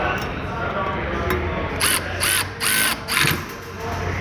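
A Milwaukee 3/8-inch power ratchet strains against a tight fastener, with several short bursts of buzzing motor and clicking mechanism close up over a noisy event background, with voices in the room.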